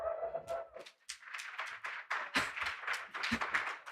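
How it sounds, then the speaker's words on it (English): Soft, scattered applause from an audience at a community awards ceremony, a light patter of hands that thickens after a brief tone at the start and carries on steadily but quietly to the end. "That was like a quiet quit clap."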